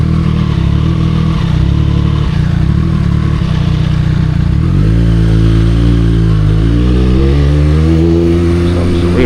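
Triumph Street Triple 765 RS engine on the move, a loud continuous rumbling drone that shifts pitch and rises as the rider accelerates, with heavy wind noise throughout.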